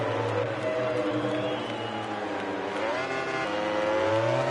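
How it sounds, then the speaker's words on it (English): An Aprilia racing motorcycle engine in a racing video game revs steadily with a low, throaty V-twin-like tone, pitch rising and falling through gear changes, loud and continuous with no talking. "The Aprilia is sounding really one of the nicest sounding bikes that we've got"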